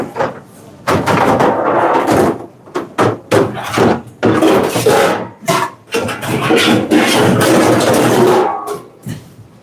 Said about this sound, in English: you will hear a lot of banging pans and all that stuff going on in the background